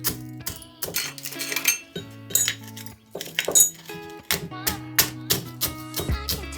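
Eggshells are pounded in a pan, giving a run of sharp metallic clinks and taps in uneven bursts, close and fairly loud, with no talking.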